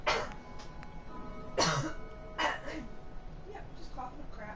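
A person coughs several times in short, raspy bursts at close range, with a quiet low background hum between the coughs.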